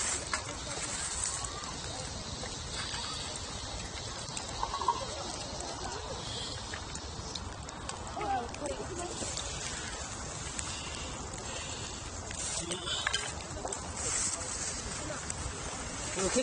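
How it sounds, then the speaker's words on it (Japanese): Steady rain falling outdoors during a camping outing, a dense continuous hiss and patter that runs through the whole stretch, with voices talking faintly over it. "雨来たよね。"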